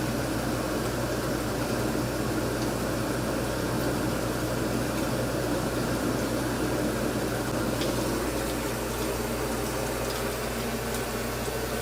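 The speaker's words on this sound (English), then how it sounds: "then immediately put it under the specimen dryer" A lab specimen dryer blows air onto a freshly rinsed specimen, a constant close whooshing hiss with a low hum that holds steady throughout, no talking.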